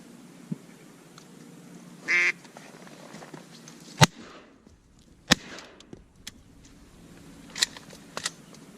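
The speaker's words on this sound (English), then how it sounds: "More mallards, dude." Mallard ducks out on a hunt, with a short nasal quacking burst near the middle, followed by a few sharp clicks and snaps nearby against quiet outdoor background.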